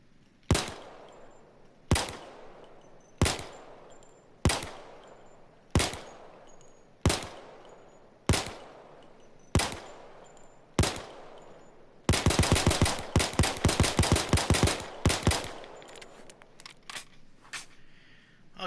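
Beretta 92 pistol gunfire in the game Payday 2: eleven sharp single shots at an even pace of about one every 1.3 seconds, then a dense rapid burst of fire lasting about three seconds, followed by a couple of trailing shots, loud and isolated.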